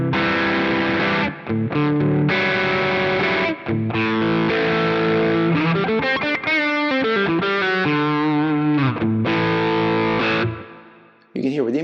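Schecter PT electric guitar played through its in-between pickup position, bridge and P90 neck pickups combined, giving a driven, distorted tone of sustained chords and riffs with a few brief gaps before fading at the end.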